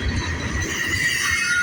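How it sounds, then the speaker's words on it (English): A long Buffalo and Pittsburgh freight train with scrap cars rolls past close by near Punxsutawney, Pennsylvania, giving a continuous rumble with thin, high metallic wheel squeals sustained over it. "Been over 7 minutes since this train's been going. Pretty long train."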